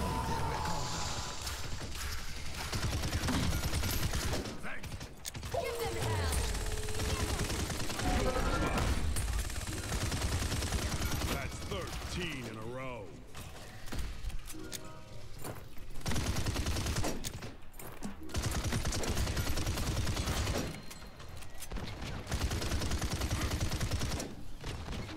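Gunfire and grenade blasts in the Paladins shooter game, with the Viktor character firing bursts of rapid shots amid mechanical clicks and effects, loud and continuous across a busy match.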